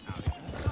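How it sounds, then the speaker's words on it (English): Horse hooves clip-clop in the video game Red Dead Online, a few quick near thuds in a brief burst with a faint background bed and no talk. "Oh, horse!"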